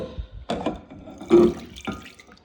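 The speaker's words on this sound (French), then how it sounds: "je vais pouvoir bien les rincer" Tap water runs and splashes in short bursts while cleaned bathroom items are rinsed under a faucet during a spring house cleaning, close by and moderately loud.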